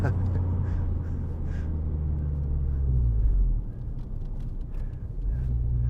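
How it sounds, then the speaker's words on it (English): A 2010 Renault Clio Renaultsport 2.0 four-cylinder engine rumbles and revs loudly up close, its low drone rising in pitch, dipping briefly, then surging again. "that sounds like a 4-cylinder Lamborghini"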